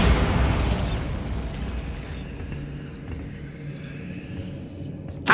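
A Bombarda blast spell goes off in Hogwarts Legacy, a loud booming burst at the start that trails into a long low rumbling roar and fades, with another sharp hit right at the end.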